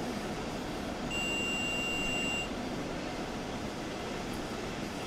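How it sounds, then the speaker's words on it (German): A small regional train with two double-deck coaches runs in Train Sim World 3 on the Großenhain to Dresden route, a steady low rumble with a thin high electronic tone over part of it. "So, da fährt unser kleiner Zug mit zwei Dossus."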